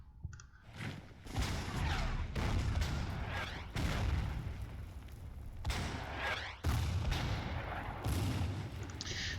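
Repeated heavy artillery booms in a World War II strategy game set during the invasion of Poland, with Panzer II tanks nearby, firing at irregular intervals as loud sharp blasts over a constant rumbling battlefield din.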